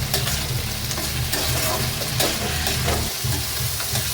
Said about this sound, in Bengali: আলু দিয়ে টমেটো পেঁয়াজটা বেশ খানিকক্ষণ আমি কিন্তু ভেজে নিলাম